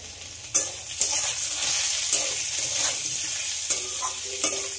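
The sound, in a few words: potatoes and onion frying in hot oil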